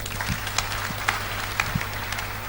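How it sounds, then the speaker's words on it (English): Applause from a church audience, soft and steady with faint scattered claps, heard at a moderate distance and fairly quiet throughout. "give her a round of applause"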